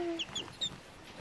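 A chicken clucks close by in a quick series of short, chirpy notes over a quiet background.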